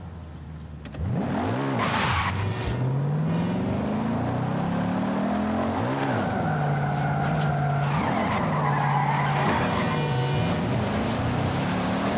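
A car drifts in the Forza Horizon 5 racing game, driven on a steering wheel with a handbrake. Long wavering tire squeals rise and fall over a loud, continuous engine roar, with no voices over it.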